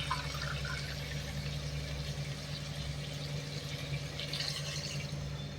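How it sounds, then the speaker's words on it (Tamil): Water is poured into chicken masala in a pot while making chicken biryani, a soft, steady splashing and filling sound over a low background hum, faint and with no voices. "இப்போ நம்ம தண்ணி ஊற்றிக்கலாம்."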